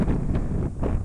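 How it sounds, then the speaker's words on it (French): Irregular gusty wind buffets a microphone on a hillside slope used for flying RC gliders, a loud low rumble that swells and dips in uneven pulses over about a second. "Le vent est très irrégulier"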